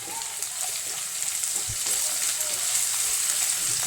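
Chopped ginger and garlic with curry leaves fry in oil for a prawn pickle, a busy close-up sizzle with occasional stirring taps.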